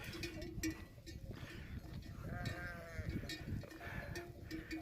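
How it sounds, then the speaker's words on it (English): A goat following a hiker on a mountain trail bleats in a long wavering call near the middle, with scuffing hooves and footsteps around it and people talking faintly nearby. "Patsy's being followed by her friend the goat."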